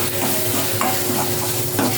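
Prawn masala with salt is stir-fried in a pan, giving a loud, unbroken sizzle with soft stirring scrapes running through it, close up and with no voices.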